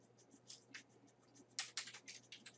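Faint, close typing on a computer keyboard, a short uneven run of light key clicks with a few sharper taps and a quick burst in the second half.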